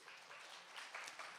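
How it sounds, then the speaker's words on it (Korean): Faint, steady applause from a small audience at a winter student camp's Bible session, a soft even patter of clapping lasting just over a second. "박수 한번 쳐주세요."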